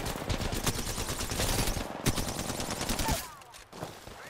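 Kraber sniper rifle gunfire in a fast-paced shooter game, a dense run of loud sharp cracks and booms piling up over about three seconds before dropping off, with one more shot near the end.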